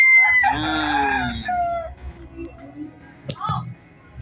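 A labuyo wild junglefowl rooster crows close and loud in one long, ragged call, followed by softer clucking and a short second call near the end.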